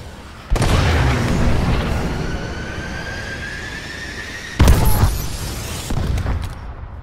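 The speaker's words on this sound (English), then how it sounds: "Friendly missile strikes inbound." Missile strike explosions in Call of Duty: Advanced Warfare: a heavy booming blast at the start rolls into a rumbling tail, then a second sharp explosion hits near the end, loud and close.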